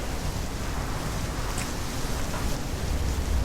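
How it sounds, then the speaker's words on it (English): Rain in the PC space-agency game Mars Horizon (2020) before a rocket launch, an even, constant hiss of falling rain at moderate loudness with no talking over it. "It's raining."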